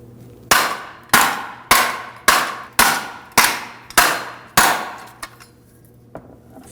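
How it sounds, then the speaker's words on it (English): Eight sharp metallic hammer blows knock a rear wheel hub out of the backing plate on a 2013-2015 Subaru XV Crosstrek, each loud and close with a short decay, in a steady rhythm, followed by a couple of fainter knocks. "you can simply hammer it out from the backside"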